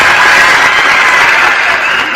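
A church congregation at a wedding service in Dallas, Texas, applauds loudly and steadily, a dense close wash of clapping throughout.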